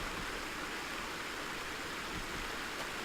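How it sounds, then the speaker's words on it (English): Strong-flowing stream in a Call of Duty: World at War custom map, a continuous even rush of running water, broad and steady throughout, heard alone without talk. "We can hear the stream."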